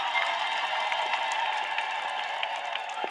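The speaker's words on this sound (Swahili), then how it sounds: "hebu pigeni makofi niwasikie" A crowd at a public gathering in Mafinga claps together, dense continuous applause with scattered sharp claps, steady and fairly close, heard without talk.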